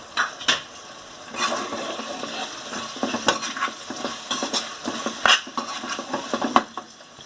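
Cabbage, carrot and other mixed vegetables with turmeric stirred in a pan over a high gas flame, a spoon scraping and clacking in irregular bursts over a soft, low sizzle.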